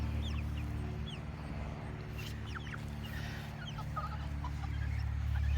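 Chickens, including a young rooster, cluck and squawk intermittently over a low, steady hum, the calls scattered and fairly close.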